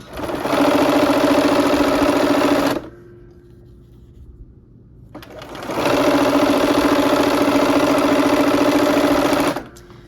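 A sewing machine stitching quilt pieces runs in a long, steady burst of rapid whirring, stops for about two seconds, then starts again for another long run before stopping.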